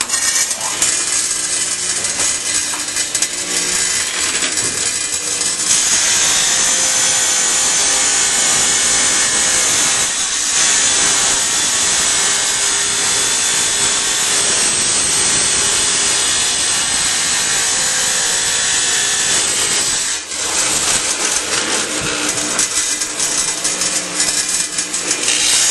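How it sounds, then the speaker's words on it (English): A wet tile saw cuts through a ceramic tile with a loud, continuous grinding whine that holds steady for the whole stretch, close up and with only a brief dip near the end. "we'll fire that baby up, and it's going to be loud for a second, folks, but we're actually going to see him cut a ceramic tile"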